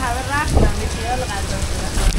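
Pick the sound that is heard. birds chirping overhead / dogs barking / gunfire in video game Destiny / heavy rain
heavy rain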